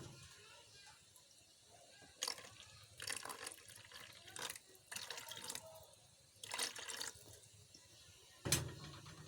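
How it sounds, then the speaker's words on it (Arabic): Milk poured into a dough mixture for soft date-filled cakes, producing faint liquid trickles and splashy bursts that come and go in short pours at close range. "وهحط لها شوية لبن زي ما انتم شايفين كده"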